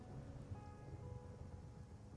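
Steady game rain from Wuthering Waves hisses evenly throughout, a continuous soft patter with no clear voices over it and some faint tonal music underneath.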